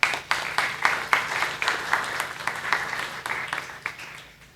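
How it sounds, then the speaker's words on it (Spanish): A university gathering's audience gives a short round of applause, a few distinct claps at first swelling into scattered clapping that fades away, heard at moderate distance. "Compañero Florencio Díaz, un aplauso."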